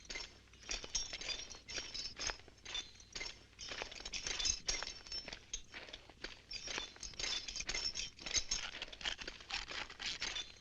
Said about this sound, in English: There was no music at all until we hear the wind-up toy. It just felt right. All you're hearing is the clink, clink, clink.